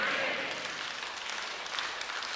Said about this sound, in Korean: 박수를 치시는 분들의 마음은 천사야